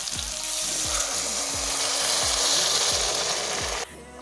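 Potatoes that were already fried sizzle loudly in a pan of frying spices as water is poured in for a fish egg curry. A steady, hissing roar carries soft clunks underneath, then cuts abruptly to a quieter simmer near the end.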